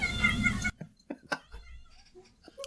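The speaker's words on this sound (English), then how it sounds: "so you can hear that poor cat scream" A cat screams in a few short, sharp cries after a burst of noisy sound cuts off, leaving the calls alone against near silence.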